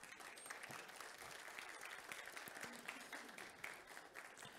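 Audience applause at a panel session on water resources management, a steady wash of many hands clapping throughout, fairly soft and distant, with no talking over it.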